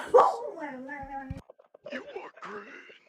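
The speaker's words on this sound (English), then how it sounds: "Dog's going yip." A dog yipping and whimpering in short high-pitched bursts, close by, mixed with a person talking quietly nearby.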